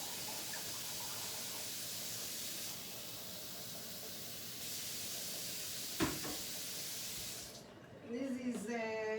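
Cold water from the fridge pours in a steady, quiet hiss for several seconds, followed by a soft knock and a brief voice near the end.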